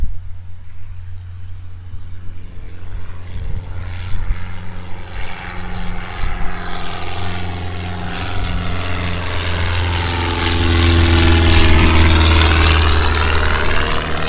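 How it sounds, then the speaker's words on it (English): A small propeller airplane at a flight training field revs up and takes off, its engine drone building steadily from a moderate hum to a loud, full-throttle roar with no voices over it. "Hold on, I think we've got someone taking off."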